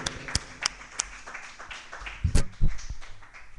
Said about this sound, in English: And a special round of applause for James, I think, even from me.